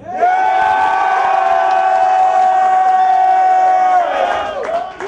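A crowd at a battle rap event in an Orlando lounge roars with sustained cheering, whoops and shouting. It stays loud and close for several seconds, then tails off near the end.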